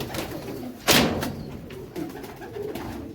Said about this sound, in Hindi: बेसिक कबूतर ही है और लाइट वेट कबूतर है।